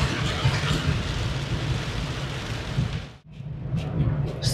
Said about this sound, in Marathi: धो पाऊस पडतोय